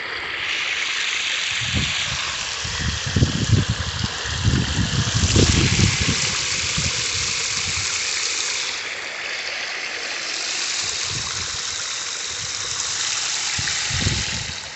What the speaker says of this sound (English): So this is how much water we have coming out of here